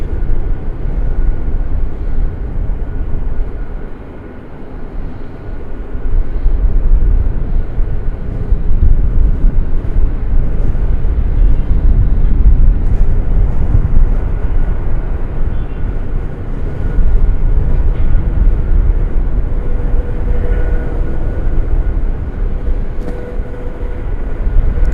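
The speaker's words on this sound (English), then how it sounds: "FedEx is going to go all the way to the end of the runway" A FedEx airplane taxiing on the runway at Raleigh-Durham International airport gives off a steady, loud, low engine roar that swells and holds for the full length, heard from a distance outdoors with no talking.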